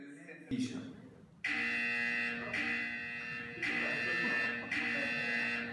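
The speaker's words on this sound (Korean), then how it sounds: "바이러스에 감염된 컴퓨터가 있다는 알람이 울리고 있습니다." Virus infection alarm in a VR network-security simulation, a steady electronic buzzing tone that starts softly, then sounds loud and continuous with brief dips, alongside a voice talking.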